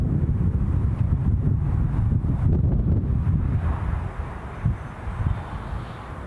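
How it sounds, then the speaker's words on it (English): Steady wind buffets the microphone outdoors at Newcastle International Airport, a loud continuous low rumble with gusty swells that eases slightly toward the end. "Wind is just picking up a little bit more here."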